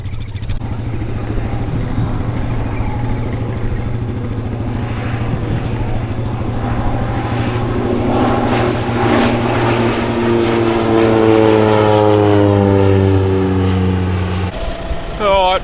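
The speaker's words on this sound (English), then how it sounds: "Alright, plane's all finished up." A crop-spraying plane droning steadily nearby while it spreads urea nitrogen over a rice field, its engine tone holding constant and then sweeping in pitch as it passes, before cutting off abruptly near the end.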